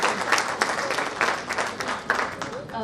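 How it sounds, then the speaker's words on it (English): Audience applause at a club anniversary event, a sustained burst of many hands clapping at close range, dense and steady for the whole stretch. "Please have a big round of applause."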